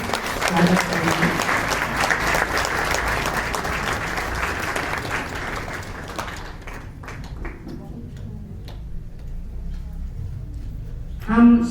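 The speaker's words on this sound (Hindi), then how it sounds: "आप तालियों में जाकर के स्वागत करेंगे।" Audience applause welcoming guests at the 87th Trimurti Shiv Jayanti celebrations, a dense sustained clapping that fills most of the stretch, thins toward the end, then swells briefly again.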